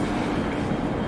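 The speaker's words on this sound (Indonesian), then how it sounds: "Kereta yang bakalan kita naik itu bakalan OTW ke Bundaran HI." Steady rumble and rolling hum of a Jakarta MRT metro train pulling into an underground station, continuous and fairly loud with no talk.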